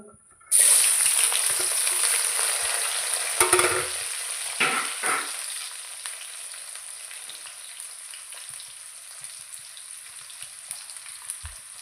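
Chopped onion and garlic dropped into a hot pan, setting off a loud sudden sizzle that crackles steadily with a few stirring scrapes, then slowly fades to a quieter fry.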